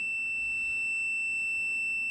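A small electronic buzzer on a circuit board, powered at about 1.3 volts, sounds one continuous, shrill, high-pitched tone, steady and unbroken, with no talking.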